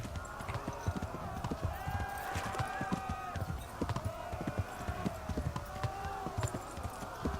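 Horse hooves clip-clop in a steady rhythm as a rider travels on horseback in the medieval video game Kingdom Come: Deliverance, with a brief whinny, close and continuous over faint background.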